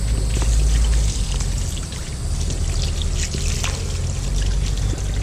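Running water pours steadily over amberjack fish pieces being rinsed, a loud, close, continuous splashing gush with no talking.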